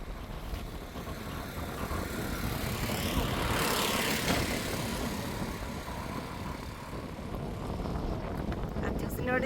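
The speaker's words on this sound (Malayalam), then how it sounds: "നല്ല കാറ്റ്" Strong wind at an old British-era bridge in Palakkad roars steadily across the microphone, with broadband gusting that swells around the middle of the clip and stays loud throughout.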